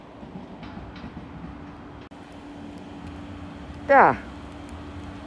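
A train pulls into Den Haag Centraal station with a steady low rumble, then a loud, brief, high brake squeal near the end. People talk over it.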